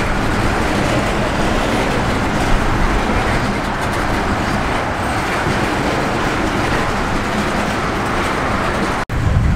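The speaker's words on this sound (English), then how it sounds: "I heard something about a stone train coming in" A stone freight train rolling past near Akron, Ohio, a loud continuous broadband roar and rumble of wagons lasting throughout, close by and steady, with no talking.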